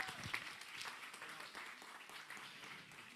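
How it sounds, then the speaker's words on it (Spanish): Church congregation applauding, a faint, steady spread of many hands clapping in a large room, continuous throughout with no voices standing out. "Un aplauso para los chicos."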